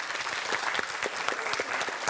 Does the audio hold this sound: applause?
yes